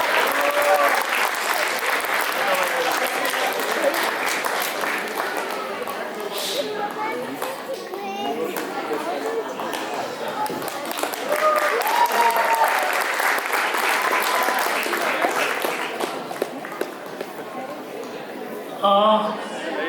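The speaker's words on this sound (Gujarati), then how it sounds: "આકાંક્ષાબેન માટે વધારે તાળીઓ પડવી જોઈએ જય કરતા" Audience applause in a hall at a Gujarati community Diwali cultural performance, sustained clapping from a large crowd for the full stretch with chatter mixed in, swelling again midway.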